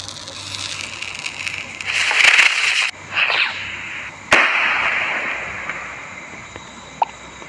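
Firecrackers set off outdoors, a sharp crack followed by hissing, fizzing bursts and a loud pop, with a smaller snap near the end; fairly close and loud.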